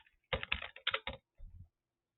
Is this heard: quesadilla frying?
no